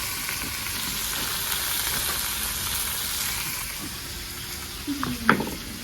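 Chili-poppy seed paste sizzling in a pan as potatoes and water go in, a steady frying hiss with a brief splash and clatter near the end.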